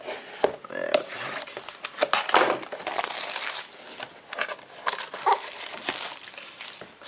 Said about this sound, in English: So I'm just going to be unboxing this for you guys